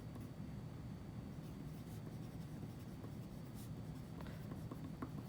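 Pen or marker writing steadily on paper or a board, a soft continuous scratchy rustle that is faint and close, with no talking.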